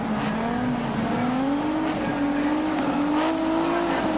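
Australian Touring Car Championship cars at Sandown, Melbourne, 1985, revving hard at the race start, a loud sustained engine roar with rising pitch as the pack pulls away together, close and continuous.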